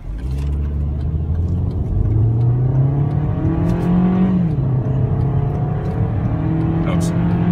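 A 2016 Kia Forte LE accelerates with a loud, close engine drone that rises and falls in pitch through the gear changes, heard from inside the cabin while people talk over it.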